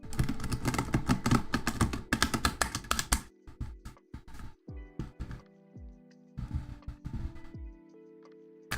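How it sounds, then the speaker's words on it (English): Tarot cards are shuffled close up, a quick run of dense riffling clicks followed by scattered softer taps and slides of the cards, with brief pauses between. "let's actually shuffle for Annie Cat now."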